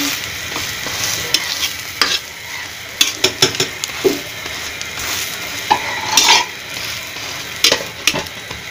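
Leftover curry reheating in a pan sizzles while a spoon stirs and scrapes against the metal in loud, irregular strokes and clinks, close and busy throughout.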